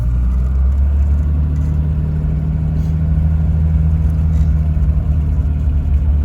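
A Toyota HJ61 engine drones steadily while driving, a loud, close, continuous low rumble with no pauses and no talking.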